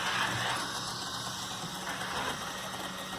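A small electric motor runs steadily at about 160 rpm on a bench with an Arduino encoder, giving a constant hum and whine that stays even and unbroken, with no one talking.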